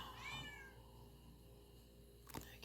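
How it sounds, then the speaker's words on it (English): A cat meows with a rising-falling, drawn-out cry near the start, then quiet room tone and a brief knock or clatter toward the end. "the cat's in here and she's meowing"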